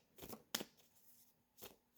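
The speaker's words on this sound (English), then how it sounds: "I'm just shuffling the cards" Tarot cards being shuffled by hand in a quiet room, heard as three short, crisp riffling bursts spaced apart with near silence between them and no talking.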